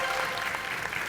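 A comedy show audience clapping, a dense burst of applause filling the brief moment, loud and close, without words over it.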